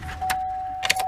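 A GMC Sierra or Silverado pickup with a newly installed steering column turns over and catches, with a loud steady engine rush, a sustained warning chime and keys jangling near the ignition.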